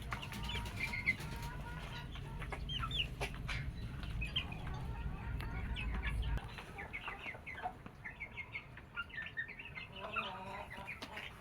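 Nearby bantam and Silkie hens cluck and murmur in short, irregular calls, with a rooster's louder notes and a brief flutter among them, no talking.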